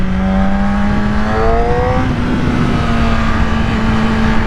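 A Yamaha R9 motorcycle engine revs up and shifts, a close, loud whine climbing in pitch and dropping before settling into a steady high drone.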